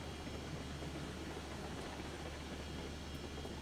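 Freight train running in the video game Railroads Online, a steady low rumble and broadband rolling noise that holds constant and fairly quiet throughout, with no talk over it.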